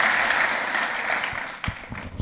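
A church congregation applauds during a revival service in Ambon, with steady dense clapping filling the room before it thins out into a few scattered claps.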